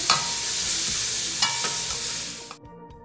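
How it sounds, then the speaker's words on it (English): Chopped parsley and minced garlic fry over low heat, a steady close sizzle with a few stirring clicks, ending abruptly near the close. "Just gonna let that fry down on a low fire"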